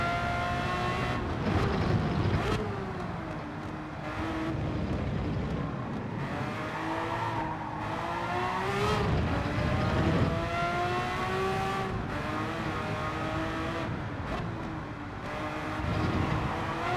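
A Ferrari race car engine in Gran Turismo 7 screams through repeated climbs in pitch, each gear pull ending in a sharp shift break before rising again, loud and continuous with no talk.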